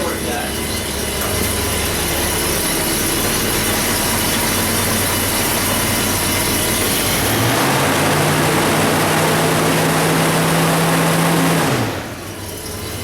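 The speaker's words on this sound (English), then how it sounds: "I love the idle on the 460. How throaty it is." A Ford 460 V8 idles low and throaty, a loud steady rumble throughout, with a voice talking over it and a brief rise in engine tone before it drops back near the end.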